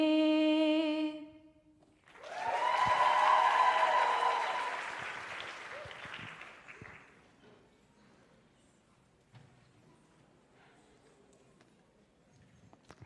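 Audience applause after sung national anthems at a championship event, swelling into a broad burst of clapping after a held sung note, then fading into scattered claps and faint murmurs.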